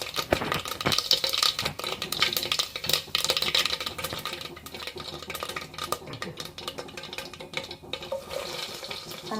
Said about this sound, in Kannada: ಬಿಸಿ ಆದಮೇಲೆ ಇದಕ್ಕೆ ಒಂದು ಸ್ವಲ್ಪ ಸಾಸಿವೆ ಹಾಕಲಿಕ್ಕೆ